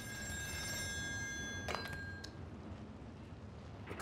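A telephone bell rings in the horror video game Still Wakes The Deep, a bright, insistent trill that continues for under two seconds, then cuts off, leaving low background rumble.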